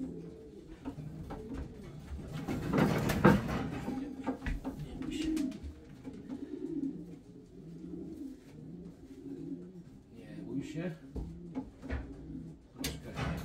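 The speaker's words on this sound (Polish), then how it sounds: "pokażę wam gołąbka." Pigeons coo repeatedly in a loft, a bird from the BAK 17 line newly moved in and still unsettled; soft rolling coos come close and steady across the clip, with occasional knocks and rustles nearby.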